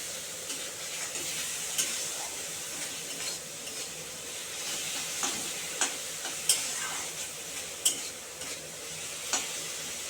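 Chopped tomato fries in spice masala, a low steady sizzle close by with periodic clicks and scrapes of a spoon stirring against the pan, no talking.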